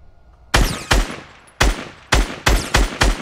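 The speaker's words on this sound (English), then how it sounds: "Heard some shots from Dusty." Six gunshots in Fortnite ring out in quick single reports with uneven gaps, each loud and sharp with a short decaying tail, and no talking over them.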